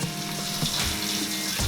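Water streams steadily from a kitchen tap into a pot for pasta, a continuous close hiss and splash with a slight rising tone as the pot fills.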